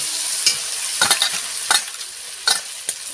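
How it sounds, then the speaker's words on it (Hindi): Tomato frying in a pan, a steady soft sizzle broken by several sharp scraping strokes of a spoon stirring at irregular intervals, close and alone without talk. "वो अच्छा से उसको भून लेते हैं।"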